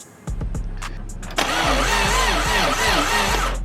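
Old Subaru engine cranking over on the starter during a compression test, a few sharp clicks and knocks first, then a steady rhythmic whirring crank with regular pulses, close and fairly loud.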